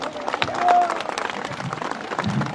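Men in a crowd at a public gathering clapping together, a dense, fairly close patter of many hands that holds steady across the whole stretch, with faint voices mixed in.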